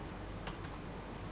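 Brief run of computer keyboard keystrokes, a handful of quick soft taps clustered together, then a single later tap, faint against steady background hiss.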